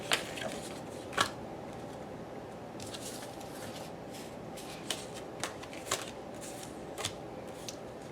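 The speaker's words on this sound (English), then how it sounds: "let me just go through the cards" Handmade paper craft cards from a kit, including bingo, library and corset cards, are flipped through one by one, giving soft papery flicks and occasional sharper snaps, close and quiet with no talking.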